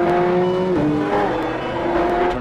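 A race car engine with strong induction noise, loud and close, holds a high steady whine that drops with each gear change and climbs again, with no talk over it.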